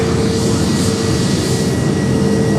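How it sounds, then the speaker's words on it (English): An American Airlines Airbus A321neo jet airliner passes at Fort Lauderdale airport with a loud, steady engine roar and a sustained tonal whine, close and unbroken. "American Airlines with a 321, and that's a Neo."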